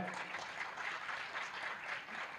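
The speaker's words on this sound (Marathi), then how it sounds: "जुईसाठी टाळ्या" Audience applause for a performer named Jui at a Marathi stage program, a steady, moderately distant wash of clapping that holds evenly throughout without breaks.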